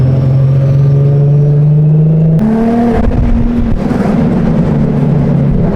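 An Infiniti G37 engine revving loudly up close, a steady idle tone rising sharply into a strong, rumbling rev that holds for several seconds.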